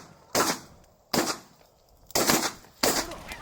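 Four sharp, loud gunshots ring out at spaced intervals during a barnacle goose hunt in Sweden, each blast decaying quickly into open-air quiet.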